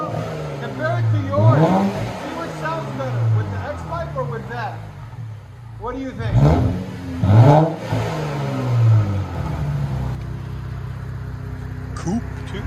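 Infiniti Q60 3.0L twin-turbo V6 with a modified muffler revving in a few sharp rising bursts, loud and close, settling to a steady idle between pulls, with voices talking over it.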